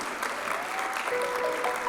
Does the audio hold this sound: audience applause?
yes